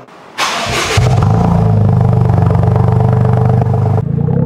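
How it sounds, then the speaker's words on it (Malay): A Toyota GR Yaris fitted with a Max Racing catback exhaust cranks and fires, then settles into a loud, close, throbbing idle with a rapid pulsing rumble. "ini adalah hasilnya lepas kita masukkan Max Racing exhaust guys"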